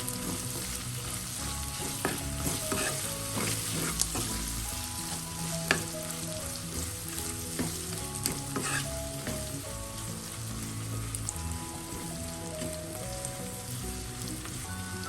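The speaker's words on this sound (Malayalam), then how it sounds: "ആദ്യം നമ്മൾ വഴുതനങ്ങയിൽ 1/2 ടീസ്പൂൺ ചേർത്താണ് ഫ്രൈ ചെയ്യുന്നത്" Brinjal frying in a pan with salt, a steady dense sizzle and crackle running throughout with occasional sharper pops and stirring clinks, close and continuous.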